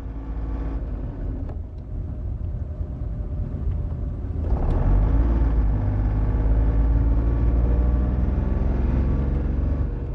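A car's flywheel-based hybrid drive system whirs with a steady engine-like hum and rumble, stepping up louder partway through and then holding a sustained drone, with no talking.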